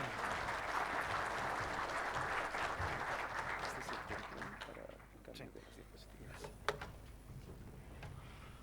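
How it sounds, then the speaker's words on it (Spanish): An audience at a tax law conference in Bolivia gives sustained, even applause in a hall, fading slightly toward the end, with a voice speaking briefly over it. "Expuesto lo anterior, recibimos con un caluroso aplauso a Horacio Félix Alaís."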